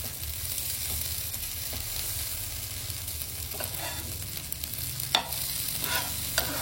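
Food roasts in a pan over a low flame, giving a steady soft sizzle throughout, with a couple of sharper scraping clicks near the end as it is stirred.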